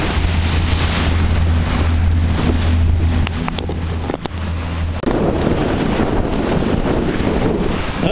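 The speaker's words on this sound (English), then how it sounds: "I hope you can see that hovercraft. He's making a lot of noise and throwing a lot of water as it goes in the inlet." A hovercraft crosses a bay inlet, producing a loud, steady engine drone over heavy wind buffeting on the microphone, which cuts off abruptly midway and leaves wind and water noise.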